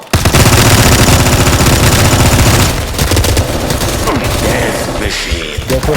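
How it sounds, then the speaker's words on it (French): Rapid automatic gunfire from a zombie video game, dense continuous bursts that stay loud throughout and thin slightly toward the end, with a faint voice underneath. "ça rafale à fond les gars"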